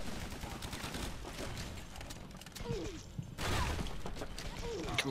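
Mortar blasts and rapid gunfire from the co-op shooter game Guns, Gore & Cannoli 2, a dense continuous barrage of cracks and booms with a louder burst partway through.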